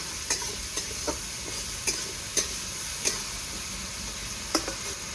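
Onion frying with ginger garlic paste in a pan, an even sizzle punctuated by repeated sharp spatula clicks as the mixture is stirred, close and alone.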